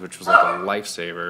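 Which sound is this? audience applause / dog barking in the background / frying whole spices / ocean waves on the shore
dog barking in the background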